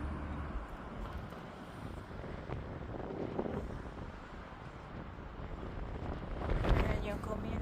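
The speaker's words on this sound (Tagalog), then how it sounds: "Ganda ng panahon. Mahangin lang." Wind gusts buffet the microphone outdoors on a breezy day in Toronto, a steady low rumble swelling louder near the end while voices talk over it.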